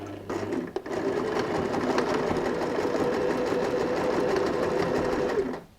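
Sewing machine running a steady quarter-inch seam to join two laptop case panels into a circle, a continuous close mechanical whir lasting several seconds, with a brief hitch near the start before it stops.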